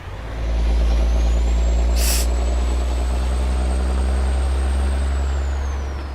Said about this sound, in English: I think that truck just hit us.